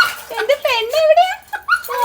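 A pet dog whimpers and yelps in high, wavering whines, a string of close, excited cries that rise and fall across a couple of seconds.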